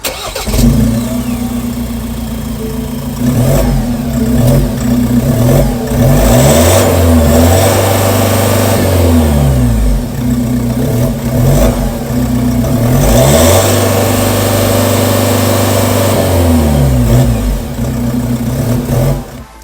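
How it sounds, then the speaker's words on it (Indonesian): A Ford Everest SUV engine revs repeatedly, rising and falling in deep throaty bursts through a loud HKS carbon exhaust, close by and continuous. "pasang knalpot dari HKS Carbon. Terus suaranya juga masih cocok banget buat dibawa dalam kota"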